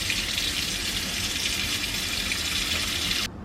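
Water pours steadily onto sphagnum moss used for rooting plant cuttings, a close, continuous splashing rush that stops abruptly at the end.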